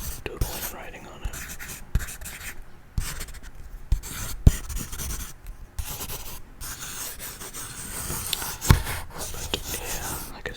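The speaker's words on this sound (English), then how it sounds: "Now I'm just, like, scribbling and doodling and writing on it." Pen scribbling and writing on a paper page, a close, intimate scratching with irregular strokes and brief pauses, quiet whispering alongside.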